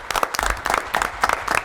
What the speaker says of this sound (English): I'd like to give them a round of applause for their ingenuity and innovation.